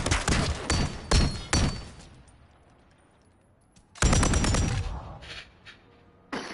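Light machine gun fire in Call of Duty, loud close bursts of rapid shots in two main volleys separated by a quieter lull with distant pops, then a final burst starting at the end.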